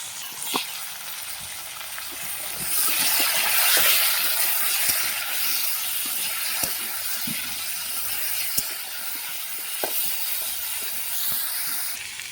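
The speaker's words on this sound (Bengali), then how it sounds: "মাছের তেলে আলুগুলো ভেজে নেব।" Potatoes frying in fish oil with a little turmeric and salt give a steady, close sizzling hiss, punctuated by scattered pops and soft clicks of stirring.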